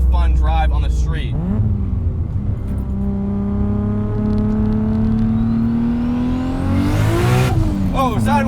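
A boosted 876 whp Toyota Supra MK3 with a 2JZ engine accelerates hard, its engine note rising steadily through a gear before a shift, loud and close from inside the car, with a voice talking over it.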